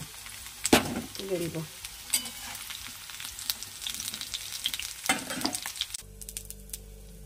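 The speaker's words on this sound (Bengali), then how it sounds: "আলুটাকে ভাজি।" Potatoes fry in a pan, a continuous sizzle with stirring scrapes and clatter throughout. A short spoken phrase comes near the end.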